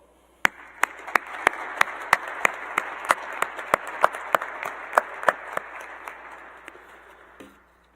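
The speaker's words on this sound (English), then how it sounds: "So I want to take a second to give you guys a round of applause, and I want you guys to give yourselves a round of applause as well." Graduating biomedical engineering seniors are applauded by an audience at a university senior celebration, a steady wash of many hands clapping with sharp individual claps standing out, swelling for several seconds before tapering off.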